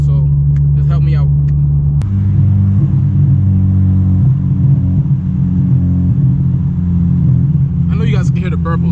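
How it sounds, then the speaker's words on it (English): A modified 9th-generation Honda Civic Si rumbles along with low, loud exhaust drone and burbling shifts in pitch, heard from inside the car while a person talks briefly at the start and end. "You guys can hear the burples. I know for a fact you guys can hear that."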